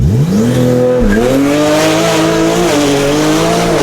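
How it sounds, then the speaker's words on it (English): A fast car does a launch start, its engine roaring loudly as it revs through rising gear sweeps with squealing tires, continuous and close for several seconds. "We'll go do a launch real quick."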